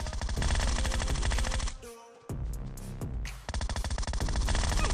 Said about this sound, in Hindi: लेकिन बंदे ने फायर कर दिया